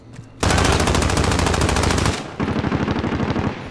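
Sustained automatic gunfire in Call of Duty Modern Warfare: a loud, dense burst of rapid shots lasting about two seconds, a brief gap, then a second, slightly choppier burst, with no talking.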